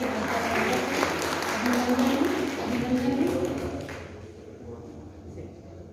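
A stage event audience at a Youth for Global Peace program applauds loudly as honored guests are invited onstage, dense sustained clapping for about four seconds before fading out, with voices mixed in.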